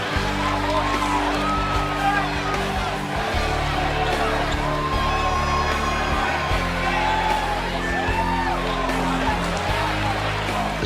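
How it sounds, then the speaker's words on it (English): Steady roar of a wrestling arena crowd in a video game, cheering and whooping continuously for the ladder match winner, with commentary voices running over the noise. "And the crowd is just absolutely loving this man."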